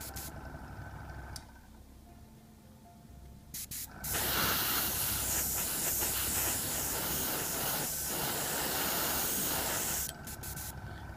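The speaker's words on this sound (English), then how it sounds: "spray from above, don't try and do the angles" A steady airbrush hiss sprays paint from above continuously for several seconds, preceded by a quieter, shorter burst of spraying and brief pauses, during hard-edge camouflage painting with salt chipping.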